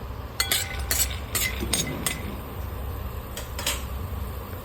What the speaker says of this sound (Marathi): शेंगदाणे आपण भाजून घेऊया